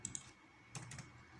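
A few quick keystrokes on a computer keyboard while entering a column name in structural modelling software, faint, close clicks with no talking.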